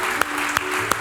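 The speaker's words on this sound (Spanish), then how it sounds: "¿Y por qué no darle un fuerte aplauso a la persona de Jesús?" A church congregation applauds together in a steady wash of clapping that holds for the whole second, with a few sharper claps standing out near the front.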